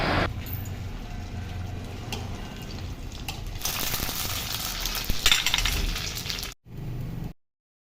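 Packaged fuchka puris frying in hot oil make a continuous hiss and crackle that swells and bubbles for several seconds before cutting off abruptly.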